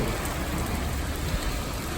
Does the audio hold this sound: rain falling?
yes